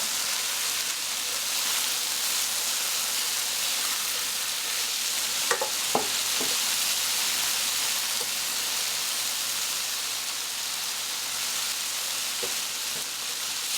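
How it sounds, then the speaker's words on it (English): Steady, close sizzling of onions frying in bacon fat and avocado oil for potato soup fills the clip, with a few brief clicks and scrapes of stirring now and then. "we're cooking in bacon fat and avocado oil"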